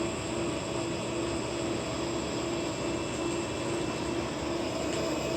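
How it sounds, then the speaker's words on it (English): A laser-powered photovoltaic drone model's small electric motor spins a propeller, giving a steady, continuous high whir with a constant tone and no talk. "And now the motor is on,"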